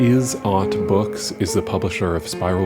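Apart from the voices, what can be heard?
None of the usual background noises is heard.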